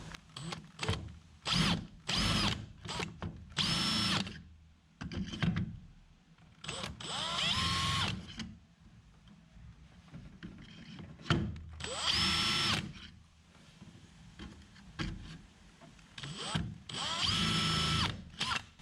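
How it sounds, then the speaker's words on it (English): A power drill whirs in short bursts, marking hole positions through the paint on a fishing boat, with several brief runs separated by pauses and some quieter tapping and handling noise between them. "just get your drill and mark some holes"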